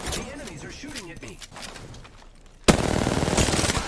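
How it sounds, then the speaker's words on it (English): Enemy gunfire in a video game breaks out suddenly midway as a loud, rapid automatic burst that continues to the end, following a stretch of player talk and game sounds. "The enemies are shooting at me."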